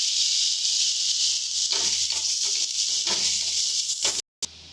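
Spices sizzle and hiss steadily in a pan as chicken is fried and stirred in a home kitchen, a constant bright frying hiss with a few soft scraping touches and a brief cut near the end.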